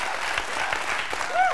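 Studio audience of a 1993 sketch comedy show applauding, a steady wash of clapping with a brief vocal whoop near the end.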